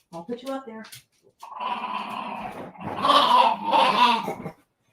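A dog whimpers and growls in a drawn-out, dramatic vocal fuss, rising in two strong bursts near the microphone after a brief human voice at the start.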